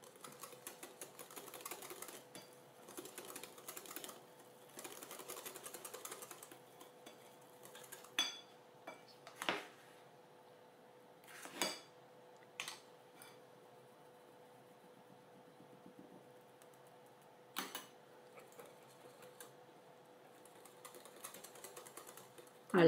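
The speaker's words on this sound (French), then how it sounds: "je vais venir mélanger avec le fouet" A wire whisk works flour into cake batter in a mixing bowl for a white chocolate and red berry cake, giving quiet, irregular scraping and tapping strokes with a few sharper clinks against the bowl, close and with no talk.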